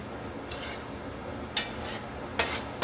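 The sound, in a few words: stirring arroz con pollo ingredients in a pot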